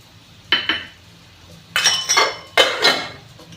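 Potato and moong dal are stirred in a pot, the spoon knocking and scraping against the metal in three short bursts of clinks and scrapes, close and clear with quiet pauses between.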